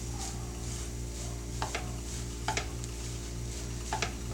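Pie filling and seasonings sautéing in a pan, a soft steady sizzle with a few brief clinks and scrapes of a utensil stirring against the pan, close and quiet with no talking.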